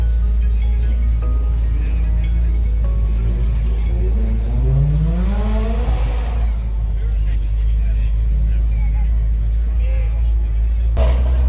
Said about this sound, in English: this is everybody at the bottom watching all the cars leave